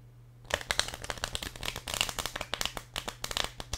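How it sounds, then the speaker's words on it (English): Playing cards being shuffled overhand, a rapid close run of crisp flicking slaps in steady succession, with a low hum underneath. "Let's also do some overhand shuffling."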